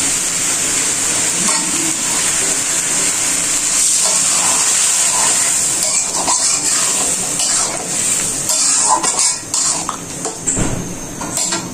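Bottle gourd sautéing in a pan, a steady loud sizzle with scraping stirring strokes throughout, no voices.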